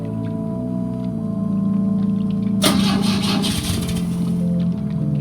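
In the video game The Drifter, a car engine cranks but does not fire, a short harsh churning burst that rises over a steady backdrop of sustained musical tones and fades back out.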